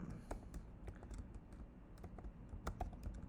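Quiet typing on a computer keyboard, irregular clusters of soft key clicks with a few sharper taps, close and alone without speech.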